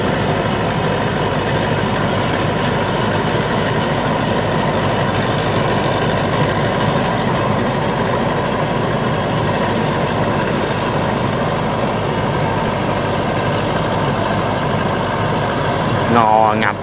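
A farmer's homemade tank-like tilling machine in the Mekong Delta runs with a steady, loud engine drone that holds unchanged throughout, close by and alone without talk.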